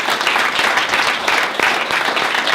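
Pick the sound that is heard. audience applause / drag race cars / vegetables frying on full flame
audience applause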